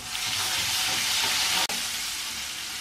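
Garlic paste sizzling and frying in hot oil with cumin, ginger, onion and green chilli for a dal tadka, a steady dense crackling sizzle close up throughout, briefly cut by a click near the end.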